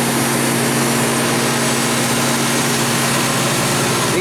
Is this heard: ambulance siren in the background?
no